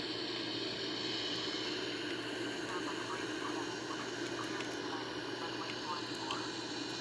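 Steady broadband roar of an Airbus A340 airliner on approach to land, heard from inside as a constant engine and airflow rush with faint voices under it.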